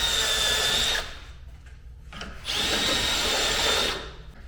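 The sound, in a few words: step drill drilling holes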